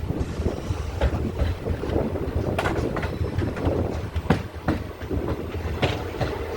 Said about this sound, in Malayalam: Mararikulam railway സ്റ്റേഷനിലേക്കാണ് train അടുത്തായിട്ടെത്തുന്നത്.